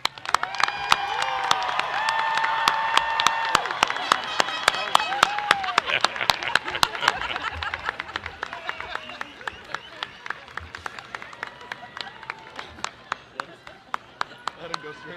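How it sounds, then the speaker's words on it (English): A crowd at a college commencement ceremony applauds the graduates with dense, sustained clapping and some cheering, alongside talk and shouts early on, gradually thinning toward the end. "we offer one final round of applause for the graduates"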